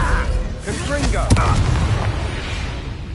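A Confringo blasting curse detonates in a video game, a sudden deep boom with a sharp burst near the middle, booming rumble continuing under raised voices and shouts.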